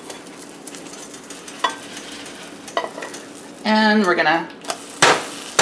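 A giant spatula flips an omelette in a hot pan, giving a brief loud sizzle burst and a scrape over a low background hiss, with a person talking around it.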